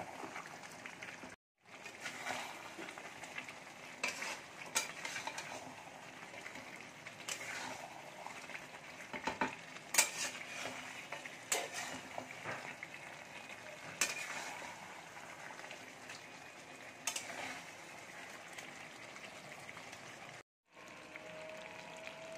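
Mutton curry sizzling as it is fried and stirred in a pan at home, a faint continuous crackle broken by scraping strokes and light clinks of a utensil, with no one talking.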